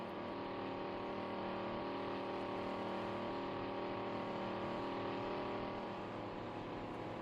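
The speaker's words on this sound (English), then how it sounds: "nothing like the sounds of a Detroit diesel" A Detroit diesel engine in Farming Simulator 19 gives a steady, droning mechanical hum at low volume with no change in pitch.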